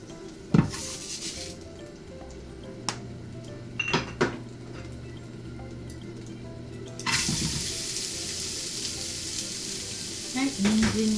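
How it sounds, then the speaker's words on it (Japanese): Two grated carrots stir-fry in sesame oil for carrot shirishiri, giving a soft, steady sizzle with occasional utensil knocks, then a louder rushing hiss in the second half. "はい、人参2本炒めていきます。"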